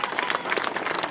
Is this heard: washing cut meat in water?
no